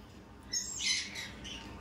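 A pair of pet birds of Holland bloodline gives a short burst of high squawking calls, fairly faint and close, with no voices.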